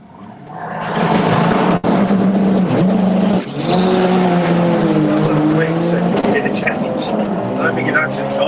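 A VW drag racing car launches hard down a quarter-mile strip, its engine roaring loud and steady for several seconds with a brief dip at a gear change, while a voice talks over the noise.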